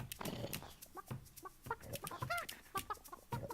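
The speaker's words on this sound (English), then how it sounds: "Chickens." Chickens cluck and chatter in a barn in the video game Burly Men at Sea, a run of close, uneven clucks and short calls over a quiet background.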